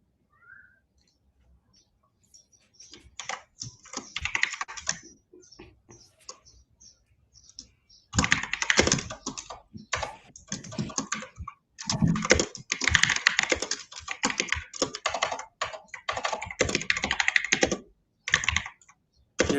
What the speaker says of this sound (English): Your typing speed is so fast, Kashif bhai.